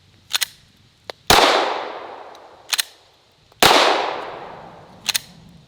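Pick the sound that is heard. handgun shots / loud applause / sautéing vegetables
handgun shots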